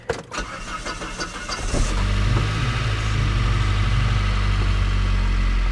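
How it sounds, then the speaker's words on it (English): A Saab 9-3 Turbo engine with low oil pressure cranks with a few quick turns, catches, and settles into a steady rumbling idle, close and fairly loud. "let's give her a crank. Let her run for a few minutes."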